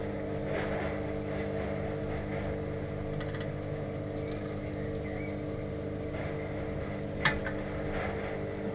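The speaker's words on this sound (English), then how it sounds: "Turn on the pump." A home brewing pump runs steadily during an IPA brew day, a continuous hum with a faint tonal whine throughout and one brief clink near the end.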